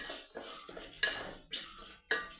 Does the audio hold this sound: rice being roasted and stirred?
yes